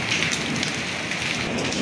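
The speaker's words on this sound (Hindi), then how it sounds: "बहुत ही बस शदीद बारिश है" Heavy rain pours down steadily in a wintry setting where snow has also fallen, a dense, even hiss with no voices over it.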